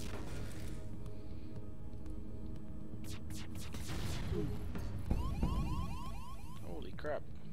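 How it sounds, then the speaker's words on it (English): Ship alarms blare in the space strategy game FTL after an ion bomb hit, with rising siren sweeps, repeated electronic warning tones and crashing effects layered over a steady low hum. "Lots of alarms going off."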